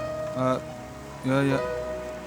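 Steady light rain patters in the background of a quiet indoor scene, a soft continuous hiss broken twice by short tonal bursts.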